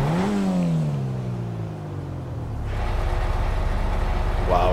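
Sports car engine in GTA V Online, a loud revving engine that winds down then rumbles back up close by, deep and throaty, with no talking.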